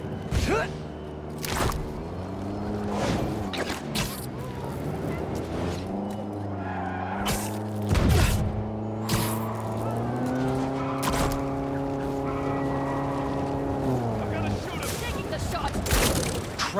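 A car drifting through New York streets in the Spider-Man 2 video game, with engine revving in rising and falling sweeps and tire squeal, punctuated by thumps and short sharp impacts, with voices talking over parts of it.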